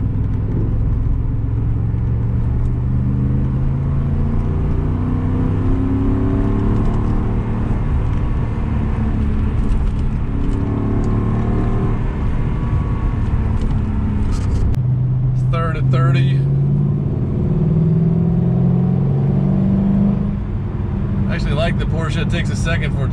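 A car pulls hard in third gear from 40, its engine droning loudly and rising steadily in pitch inside the cabin. Short bursts of talking break in over the engine noise near the end.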